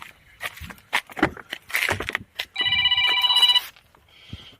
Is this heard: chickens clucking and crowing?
no